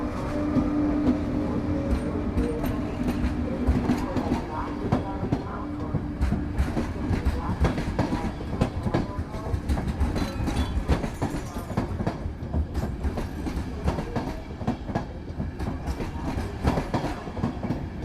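Express train R 810 Horehronec departs Košice bound for Bratislava, hauled by a class 163 electric locomotive; a steady rolling rumble with rhythmic clickety-clack of wheels over rail joints carries on throughout, loud and close.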